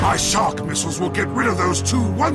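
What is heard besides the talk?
None of the usual background noises is heard.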